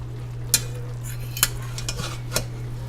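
A few sharp scrapes and clinks of a utensil turning sweet potatoes in a pan, over a steady low hum, with quiet gaps between each turn.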